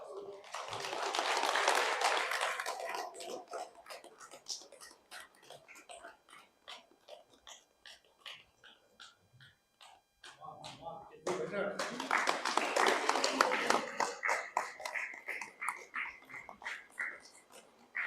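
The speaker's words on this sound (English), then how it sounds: "Let's give a big round of applause." Audience at a meditation summit bursting into applause in two loud waves of dense clapping, separated by quieter scattered claps and some talking.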